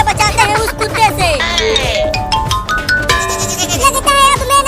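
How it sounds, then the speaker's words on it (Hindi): A goat kid in a cartoon bleats repeatedly, loud and close, with wavering cries over background music. "वो रहा बकरी का बच्चा, उस बकरी के बच्चे से ही शादी करा देते हैं"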